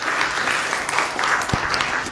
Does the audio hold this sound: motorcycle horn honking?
no